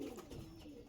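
Andhra Abluk pigeons, young birds just learning to feed, give soft continuous cooing with low murmuring throughout, steady and close, with no talk.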